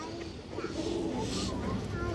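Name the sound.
pigeon cooing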